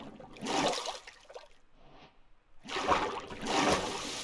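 Water is scooped up with a bucket in Minecraft: short soft splashing and sloshing bursts, one early and two more later, separated by quiet gaps.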